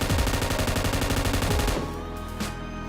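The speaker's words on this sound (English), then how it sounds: "You need to start shooting before entering into BRDM. And you will shoot until you finish your mag." Rapid automatic gunfire from a BRDM armored vehicle in the battle royale game PUBG, a dense loud burst of shots for most of the moment before cutting off into quieter game ambience.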